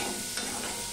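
Potatoes frying in a pan with turmeric and salt, a steady, dense close sizzle lasting about a second with no talk.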